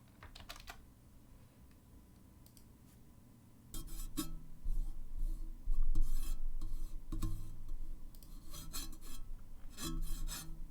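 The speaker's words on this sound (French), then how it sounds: "Vous entendez quand je joue avec mon micro là comme ça?" A microphone is handled and rubbed, with soft scraping and bumping noises, faint at first, then louder and close with irregular rasps and knocks, and no talking.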